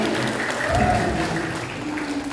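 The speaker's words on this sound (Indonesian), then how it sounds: "Oke, berikan aplaus untuk kalian." An audience at a talk on student confidence and study motivation applauds, producing a steady, dense wash of clapping from a crowd that fills the whole moment without pause.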